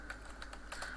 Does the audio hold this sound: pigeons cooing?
no